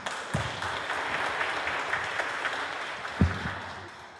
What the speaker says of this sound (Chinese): 让大家掌声鼓励一下。